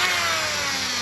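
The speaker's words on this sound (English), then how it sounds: "So here I have a Dremel with a rotary sander." A Dremel fitted with a rotary sander whines steadily and loudly as it grinds a notch for a speaker opening on a 1996 Four Winns Horizon 200 boat, with no talking.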